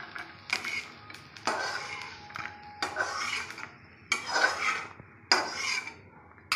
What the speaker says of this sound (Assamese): এতিয়া মই কেৰাহীৰ পৰা নমাই আনিম।